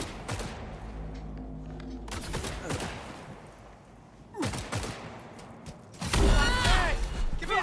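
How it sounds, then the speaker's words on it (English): Gunfire crackles in scattered bursts during a street fight in Cyberpunk 2077, with several separate volleys of shots at middle distance and a louder, denser flurry near the end. "Sounds like there's some shooting going on over there."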